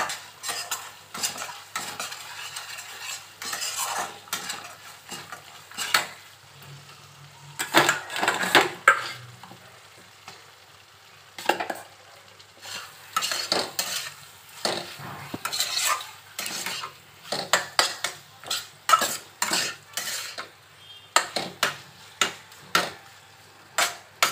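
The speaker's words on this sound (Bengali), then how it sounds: "চলো আর একটু মশলাটা কষবো।" Spice masala is sautéed in oil in a pan, with a spoon scraping and clinking against the metal in irregular bursts over a faint sizzle, heard close with no speech.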